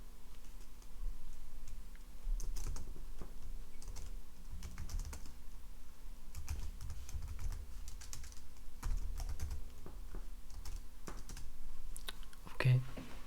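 Steady, fast clicking of keys on a computer keyboard runs throughout, close and crisp, with soft breathy speech faintly underneath in an ASMR keyboard-service roleplay.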